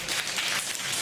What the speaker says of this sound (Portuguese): As palmas podem ter sons de chuva nas mais variadas intensidades